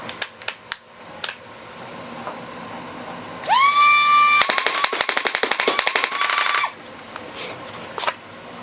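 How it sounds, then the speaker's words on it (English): An Xtra Atrox toy blaster fires off a full magazine, a rapid train of sharp mechanical cracks over a rising motor whine, preceded and followed by scattered clicks and handling noises. "flawless mag dump by the Xtra Atrox"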